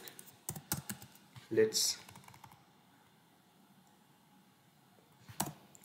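Code is typed on a computer keyboard in short bursts of close, crisp key clicks, then a pause and one last flurry, with a voice briefly speaking at the start.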